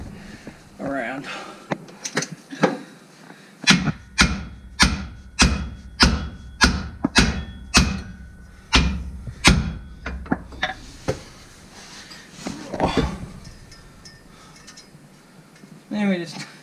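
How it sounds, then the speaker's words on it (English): A hammer strikes a screwdriver to pry a part off a ute, a run of about a dozen sharp, evenly spaced metallic taps, with someone talking before and after. "Right, screwdriver and a hammer, because I don't like playing around."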